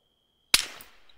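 A single sharp gunshot in ARMA 3 cracks out of near silence, loud and abrupt, followed by a brief decaying echo.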